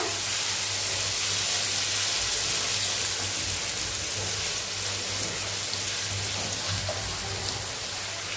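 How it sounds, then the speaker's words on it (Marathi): Onion sautés in a pan for a curry, giving a dense, steady sizzle that holds at an even level throughout, with no talking. "कांदा घालूया आणि कांदा मस्तपैकी गुलाबी रंगावरती आपण परतून घेऊया"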